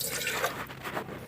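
Water pours from a cup into a pot on a village stove, a soft, close, steady liquid rush with faint dripping, heard alone without talk.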